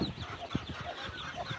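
Chicks peep in a farm brooder in rural South Dakota, with a scatter of short, high chirps repeating at a fairly quiet, close level and no talking.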